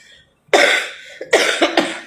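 A person coughs several times: one harsh cough, then a pause, then two or three more close-up coughs in quick succession.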